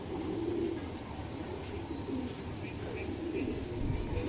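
A silver-eyed racing pigeon coos softly amid a steady loft ambience, its low murmuring calls recurring under faint background noise.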